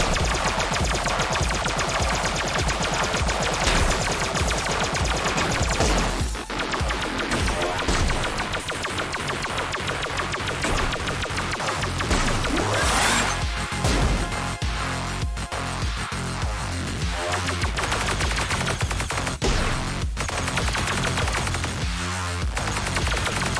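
Constant rapid electronic shots fire in the retro rogue-like spaceship game Black Paradox, dense and loud over driving game music, with crashes and sharp bursts scattered through.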